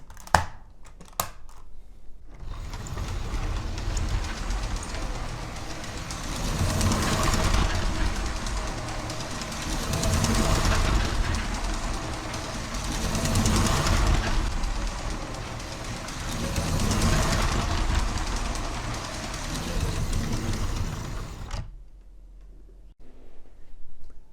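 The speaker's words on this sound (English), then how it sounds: "show the train running for a little bit on its included loop of track" A small Lego 7725 electric passenger train whirs and rattles steadily around its included loop of track. The sound swells and fades in regular cycles as it loops, then stops.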